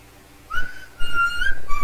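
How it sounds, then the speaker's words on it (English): A person whistles loudly and close by in a few short bursts with pauses between them, during a Minecraft gaming session. "Hey, don't whistle. It's loud."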